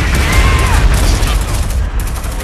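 Continuous artillery and gunfire barrage in the video game EndWar, loud and dense throughout with rumbling low booms and crackling shots, with speech-like radio chatter layered over the battle noise.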